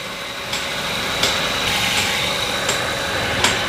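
A diesel engine idles steadily at close range, a continuous rumble with a few faint clicks and ticks over it.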